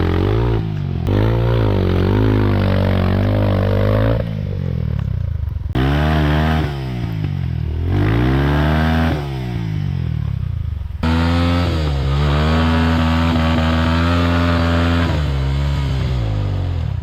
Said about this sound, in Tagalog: So ito yung motor ni Momo Rusi 200. Nahihirapan kami kasi dumudulas na lang siya.